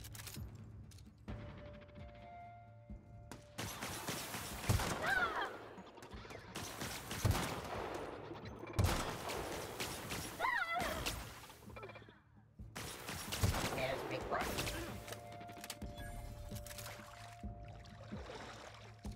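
Bursts of plasma weapon gunfire from The Outer Worlds, loud volleys in several separated clusters with gaps of quieter ambience between them.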